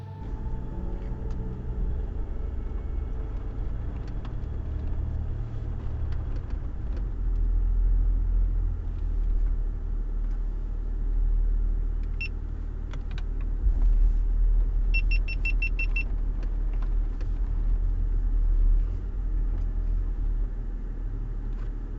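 Steady low rumble of a full-size pickup truck in two-wheel drive on a dirt trail, droning engine throughout, occasional rattles and clicks over rough ground, no talking.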